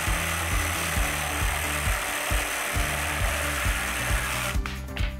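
NRT Pro JV 65 DC cordless battery jigsaw cutting through wood, a steady high motor whine with rhythmic blade strokes chattering at a regular pulse throughout, close and loud, cutting off near the end.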